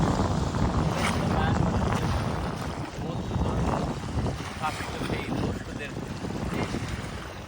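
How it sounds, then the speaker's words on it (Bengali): Trawler boats passing on the Naf river at Teknaf near the Myanmar border, a low engine rumble almost buried under loud, constant wind buffeting the microphone. "ওই যে ট্রলারগুলো যাচ্ছে"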